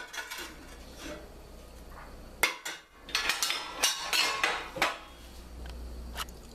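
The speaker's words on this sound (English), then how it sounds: "all I'm going to do is just mix it up" A spoon mixes lamb, drained beans and kale in a pot, producing bursts of clattering metal knocks and scrapes, with a brief pause midway, close by over a low steady background hum.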